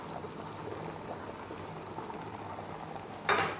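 Coconut milk goes into a simmering mango curry sweetened with jaggery, the pot giving a soft continuous bubbling before a sudden brief splash of pouring near the end.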